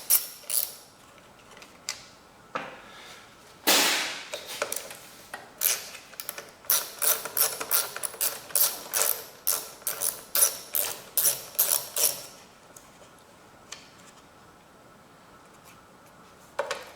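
Bolts on a Husqvarna lawnmower that will not run are loosened with a ratchet: rapid repeated clicking bursts and creaks, close and crisp, with pauses between turns and no talk.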